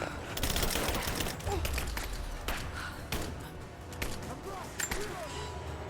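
Shrapnel grenades going off in Rise of the Tomb Raider, a series of sharp bursts and crackling blasts in quick succession amid game action, with a person talking over them.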